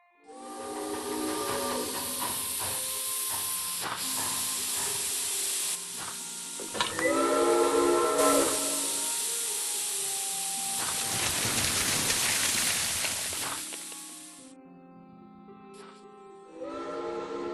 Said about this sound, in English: Those whistles mean a train with a snowplow has arrived from Broad.